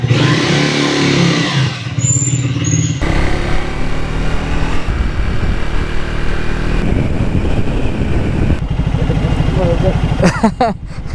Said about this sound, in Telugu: ఇంజన్ కూడా వార్మప్ అయిపోయింది